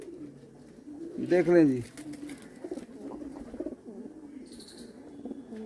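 Pigeons, some with dyed feathers, coo close by at a pigeon sale, one loud rolling coo followed by softer murmurs, while someone talks over them.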